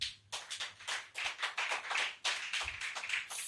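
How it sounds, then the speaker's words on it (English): Audience applause at a pharmacy masterclass event in Lagos, a dense burst of many hands clapping steadily throughout, loud and continuous with slight swells. "Can we give them a round of applause?"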